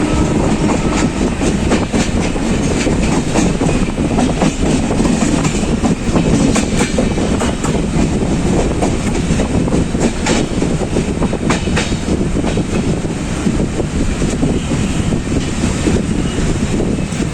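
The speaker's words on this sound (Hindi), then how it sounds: "प्लेटफॉर्म 1 पर जा रही है ट्रेन" The Purnagiri Jan Shatabdi Express runs steadily on rails between Bareilly and Moradabad, a loud, continuous rumble with rhythmic clickety-clack of wheels over joints and some wind buffeting, heard close from on board.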